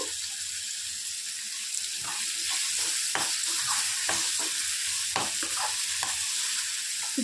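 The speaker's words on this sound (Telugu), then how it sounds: "ములంకాడలు వేసి మళ్ళీ కొంచెంసేపు వేపాలి" Drumstick pods frying with eggplant in a homemade curry, a steady hiss of sizzling oil throughout, broken by sharp clacks and scrapes of a spoon stirring against the pan, no voices.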